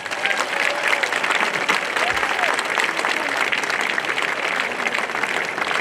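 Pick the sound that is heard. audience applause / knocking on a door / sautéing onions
audience applause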